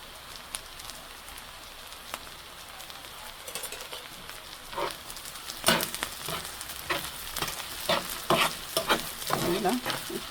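Data saag greens with garlic are stir-fried in a pan, a soft background sizzle broken by scraping stirring strokes that grow louder and more frequent toward the end, close by with no talking.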